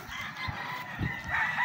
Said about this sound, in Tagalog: Mga pangmayaman yan na manok.